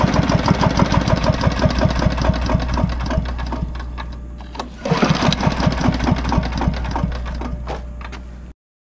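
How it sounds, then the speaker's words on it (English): A Honda lawn mower engine running with the choke on, a steady close rapid putter that stumbles and dips briefly midway before picking back up, then cuts off abruptly. "I'm going to try to start it a few more times here with the choke on"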